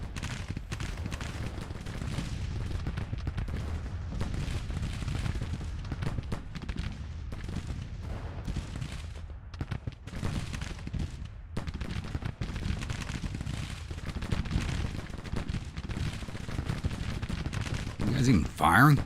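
Musket volleys and artillery fire trade between regiments in a Civil War battle game, with continuous rattling gunfire and heavy booms pounding on without pause, dense and loud, with scattered voices underneath.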